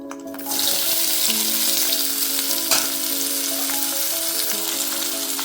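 Boiled broad bean pieces hit a hot pan for an Andhra-style vegetable curry, bursting into a loud, steady sizzle after half a second of quiet that continues unbroken at close range.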